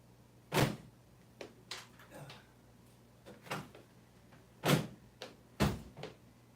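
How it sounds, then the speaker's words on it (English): Several doors being pushed shut in an apartment room, landing as sharp separate knocks and thuds at irregular spacing, a few louder and closer than the rest, over a steady low hum, with no talking. "Kind of close the doors a little bit here so the sound won't go all the way out in the hall."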